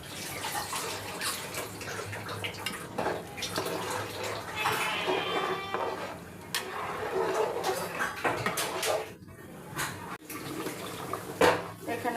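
A pot of chicken curry with potato and raisins bubbles at a boil, wet gurgling and watery churning with soft pops and occasional clinks, fairly close and steady throughout.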